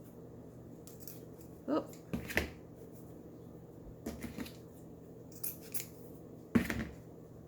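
Scissors trim a patriotic Fourth of July centerpiece decoration shorter, a few sharp, close snips spread over several seconds against a quiet room, with a brief spoken exclamation.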